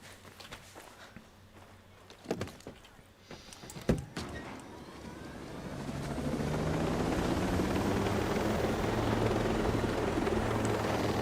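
In the video game Ghost Recon Breakpoint, footsteps and thuds of boarding are followed by a helicopter's rotor and engine spinning up into a loud, steady whirring drone that fills the second half.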